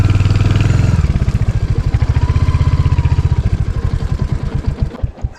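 Motorcycle engine idling on a forest road: a loud, close, rhythmic low thumping putter that slows and fades as the engine is switched off at the end.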